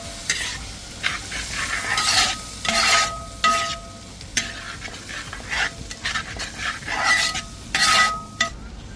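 Coriander powder fries and is stirred in a pan for beef fry, with irregular spoon scrapes against the pan over a soft, continuous sizzle. The strokes come close and fairly loud, and no one speaks.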